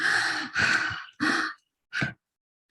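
Demonstration of deep breathing at a master class, with several loud, close breaths drawn in and let out in sighing bursts, the last one short, followed by silence and no talking.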